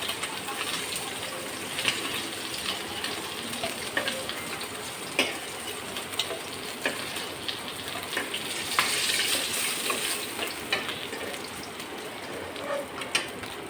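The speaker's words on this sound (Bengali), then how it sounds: "মাছটা ভেজে নিই" Fish fries in a pan with a steady, moderate sizzle broken by scattered sharp crackles and light clicks throughout.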